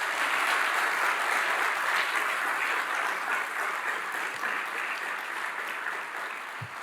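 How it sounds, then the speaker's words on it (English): Steady, dense applause from a sizable audience, loud at first and gradually tapering off over several seconds. "Let's please give them a round of applause."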